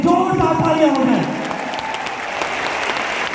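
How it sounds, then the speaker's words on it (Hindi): Loud applause from a large audience at an Asclepius Wellness event, heavy for about a second with a voice over it, then thinning into a lighter, steady patter of clapping. "जोरदार तालियां हो जाए"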